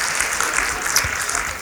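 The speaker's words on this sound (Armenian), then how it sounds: "մի հատ ծափարեք խնդրում եմ" An audience at a stand-up comedy show claps in a brief, dense burst of applause. The clapping is loud and steady throughout and sounds close to the listener.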